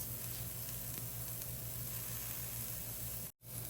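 Onion, bay leaves and other spices sizzling in a pan, a steady close hiss of frying that runs evenly, then cuts out abruptly just before the end.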